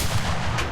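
A tank cannon fires in the video game Enlisted, a single heavy boom whose low rumble fills the whole short moment at close range, with no voices over it.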